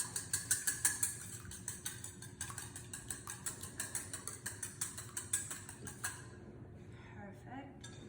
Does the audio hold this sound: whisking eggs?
yes